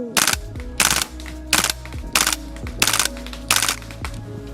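Gas blowback airsoft rifle, a WE XM177, firing in short repeated bursts, each rapid string of sharp cracks with bolt clatter, six bursts spaced roughly every 0.7 seconds, loud and close.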